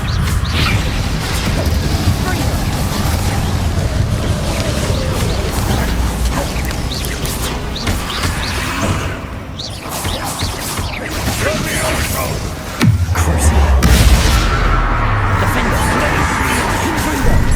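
Spell explosions from Confringo and Bombarda in Hogwarts Legacy: repeated booms, crashes and bursts over a busy mechanical din, with a heavy low impact near the end and a voice shouting spell names throughout.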